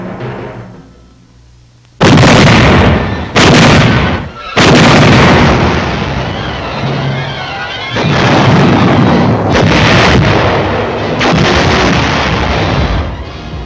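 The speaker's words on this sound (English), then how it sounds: "placed our artillery and commenced firing at Wakti Island." WWII artillery guns fire on a small offshore island in New Guinea. Loud, heavy booms repeat at irregular intervals, each followed by a rolling rumble that fills the gaps, with no voices.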